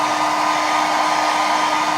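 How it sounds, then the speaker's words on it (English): A hair dryer run lightly over a freshly painted furniture finish gives a steady, close, even whir with a constant motor tone, unbroken for the whole stretch and with no voices. "Now I'm going to hit this really lightly with a hairdryer"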